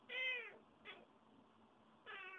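A cat meows up close several times, two longer cries and a short chirp in between, alone against a quiet indoor background.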